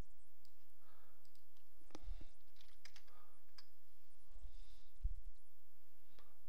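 Mouse clicks and a few keyboard taps at a computer running Creo CAD software, quiet sharp clicks scattered over a faint room hush, with two soft low thumps among them.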